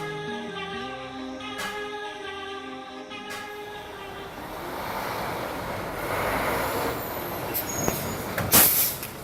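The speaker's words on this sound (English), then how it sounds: "It's the magnesium alloy body of the 7D versus the multi-ton steel truck." A multi-ton steel truck idles with a tonal engine drone, then rolls forward with rising rumble and ends in a sharp hiss and clatter as it passes over a magnesium-bodied Canon 7D camera.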